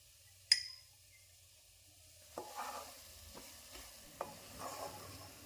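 Scraping and stirring of grated coconut with cardamom roasting in a pan for coconut laddu, with a few sharp clinks and soft rustling strokes spaced apart, no talking.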